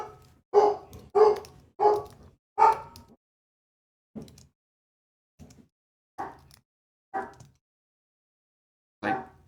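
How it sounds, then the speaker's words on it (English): Several dogs bark outdoors, reacting to a passing car or someone walking by, in a series of sharp, separate barks: a quick cluster of four loud ones, then scattered, fainter barks spaced apart with silence in between. "Dogs are barking."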